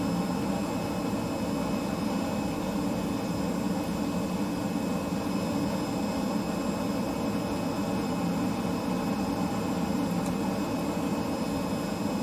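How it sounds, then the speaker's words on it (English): A Just Flight Hawk T1 jet engine in a flight simulator gives a constant, loud whining roar with steady high tones, unbroken and alone for the full length. "The engine is up and running, which is not logical"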